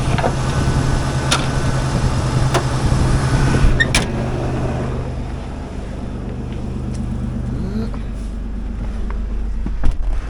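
1998 Toyota 4Runner SR5 with a 3.4L V6 heard from inside while driving, a steady engine drone and road rumble with a few sharp clicks and knocks, easing slightly midway.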